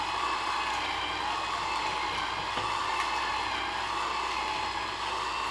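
Small electric juicer with a narrow auger running continuously, a dense steady whirring hum that stays even and loud from start to finish, with no speech.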